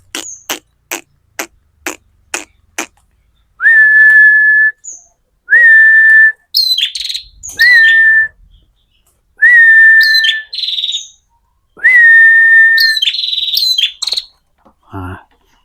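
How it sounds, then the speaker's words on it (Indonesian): Red-headed prinia gives a few sharp, high whistled calls after a run of quick ticking clicks, the notes spaced apart with gaps, close and fairly loud, no talking. "saya mau update burung perenjak kepala merah saya ya"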